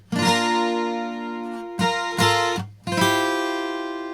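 Nashville-tuned acoustic guitar with a capo strumming chords, bright shimmering strums ringing out, a few separate strikes with short gaps, close and alone with no voice.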